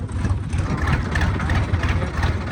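A loaded tractor's engine runs steadily nearby with a low, rumbling drone and slight unevenness, no voices.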